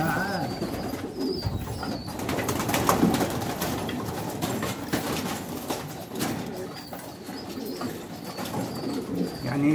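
Kashmiri pigeons coo in low, repeating throbs with bursts of wing flapping and scuffling as a male is grabbed by hand, fairly close, with some background noise throughout.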